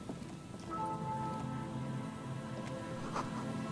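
Rain dripping from a red tarp over a makeshift boardwalk roof in Disco Elysium, a soft continuous patter with scattered drops, joined by a low droning tone and faint musical notes in the background.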